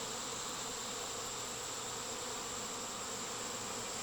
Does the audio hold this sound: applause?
no